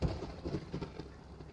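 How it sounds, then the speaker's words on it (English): Thunder rumbles low and rolling under a steady patter of rain in the video game Chronos: Before the Ashes, a quiet storm ambience with no voices. "The thunder."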